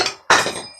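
Two hammers strike a part on a 2004 Chevrolet Silverado 2500 with a 6.0 engine during a teardown, giving sharp, loud metallic whacks close up, one heavy blow ringing out and another starting at the end.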